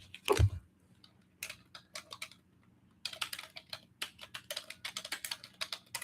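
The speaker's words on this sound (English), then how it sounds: "I'll type it in here." Someone types on a computer keyboard nearby, with a thump at the start, a few scattered keystrokes, then a quick run of steady tapping.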